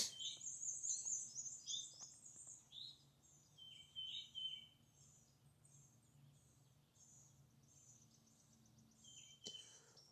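Many birds chirp and trill at a campsite on a spring morning, a busy chorus of quick bright calls at moderate distance, fading somewhat after the first few seconds over a quiet background.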